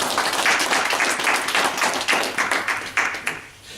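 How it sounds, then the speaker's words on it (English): Audience applauds a speaker being called forward, a close, lively patter of many hands clapping throughout, with sharper individual claps standing out near the end. "a big applause for Mr. James"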